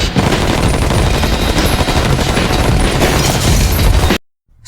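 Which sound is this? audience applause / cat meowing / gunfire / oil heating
gunfire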